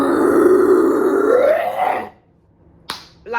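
A voice imitates someone throwing up with a loud, drawn-out guttural retching groan that rises in pitch and cuts off, followed by a short sharp smack or gasp.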